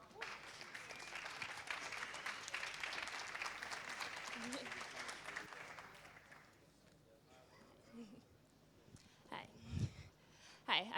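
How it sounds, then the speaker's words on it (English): Audience applause at a tech camp event, a steady wash of clapping from a crowd that fades after several seconds into quieter room noise and scattered voices. "A big applause for first job."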